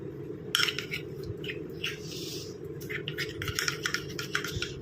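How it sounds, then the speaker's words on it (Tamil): Spoon scraping and clinking in a bowl while stirring a face-pack paste of flour mixed with potato juice, a quick irregular rattle over steady background hum. "ஆட் பண்ணிட்டு நல்லா மிக்ஸ் பண்ணிக்கலாம்"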